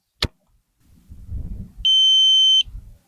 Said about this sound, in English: You hear it starting to beep.